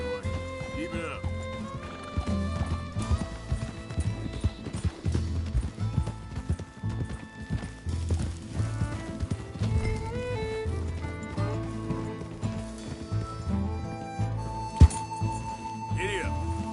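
Horse hooves clip-clop steadily while riding in the Red Dead video game, with background music and a voice talking over the ride.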